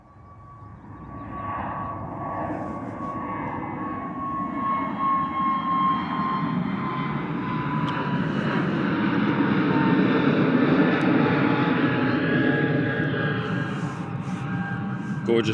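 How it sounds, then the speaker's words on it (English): An EasyJet Airbus A320neo departing Bristol Airport: a jet roar builds over the first seconds and rises to a sustained rumble with a whining engine tone, fairly loud and close, with no voices. "Gorgeous departure there from our friends at the EasyJet A320 Neo."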